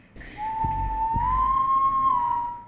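A person whistles one sustained, slightly rising tone, imitating a serial killer's whistle from the game Killer Frequency. It is loud and close, with two soft thumps near the start.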